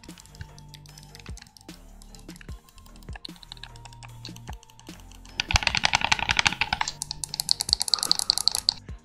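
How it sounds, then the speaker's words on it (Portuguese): Clicky face buttons on a Machenike G5 Pro game controller, pressed in quick irregular bursts of sharp close clicks that grow denser and louder toward the end, with no talk. "Botões de cliques, escuta só."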